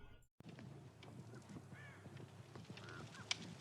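Faint cawing calls from a few crows in Dead by Daylight sound distantly over a low, steady background hum, with occasional soft clicks.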